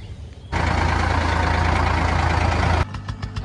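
A tractor engine drones along a road, a loud, close, steady rumble that swells abruptly after a brief quieter start, holds evenly, then drops back near the end.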